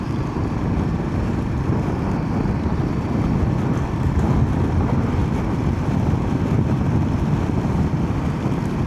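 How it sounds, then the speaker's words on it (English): Steady, loud wind roar buffets the microphone throughout a windy ride, forming a dense, continuous low rumble with no pauses and no voices. "it's quite windy today"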